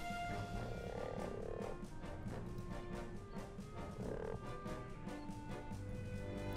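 Frogs croak in the fantasy strategy video game Regalia: Of Men and Monarchs, two rough, throaty bursts spaced a few seconds apart over layered game music and ambience.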